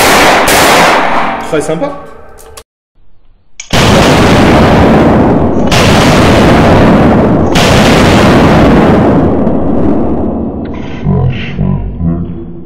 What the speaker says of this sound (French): Alors, un petit peu de tir rapide.